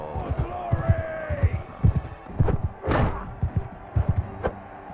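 In Mount & Blade II: Bannerlord, a horse gallops with a rapid, rhythmic run of hoof thuds, fairly close. A brief whooshing noise cuts through midway.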